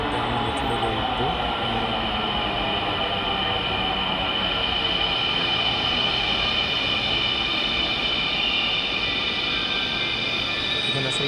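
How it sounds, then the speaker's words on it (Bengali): A Dhaka Metro Rail train pulls into a station, a loud, steady rumble of wheels and motors with a high whine and faint squeal running throughout, close and continuous. "মেট্রো রেল দেখা যাচ্ছে চলে আসছে"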